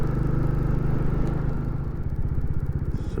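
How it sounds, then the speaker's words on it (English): Motorcycles on a favourite winding road ride past with a rumbling mid-pitched engine drone, growing into rapid rhythmic exhaust pulsing and crackle as they roll by nearby. "I think we'll hear the exhaust doing a little bit of popping going down here"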